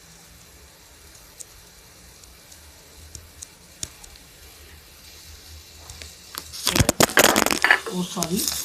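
A mobile phone drops and clatters in a home kitchen while ridge gourd cooks on the gas stove. A sharp, loud burst of knocks and rattles comes near the end after a long quiet stretch.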